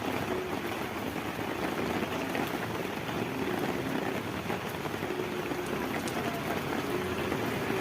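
Steady, dense rain roars without a break, close by and fairly loud, with a wet, splashing hiss as it pours onto water and a vehicle stuck in flooded ground.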